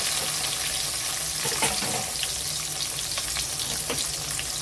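Onion, tomato and two dried chillies fry in hot oil for a cabbage chutney, giving a steady, close, dense crackling sizzle throughout with scattered sharper pops and no voices.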